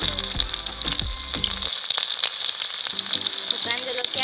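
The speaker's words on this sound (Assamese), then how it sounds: "পিঁয়াজখিনি দি লওঁ।" Chopped onion goes into hot mustard oil for a radish seed stir-fry, bursting into a loud, crackling sizzle with a few quick spoon or pan scrapes and clicks as it fries steadily.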